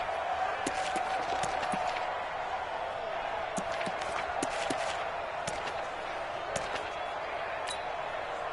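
A football stadium crowd roars steadily in the fourth quarter of a Pittsburgh Steelers game, a dense, continuous wash of noise with scattered sharp claps and bangs, while announcers talk over it.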